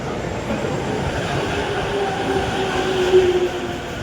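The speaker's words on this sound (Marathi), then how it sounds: "ट्रेन आली आमची आता." A train pulls into a station in Japan with a steady rumbling roar and a rising squeal of wheels and brakes near the end, heard close by.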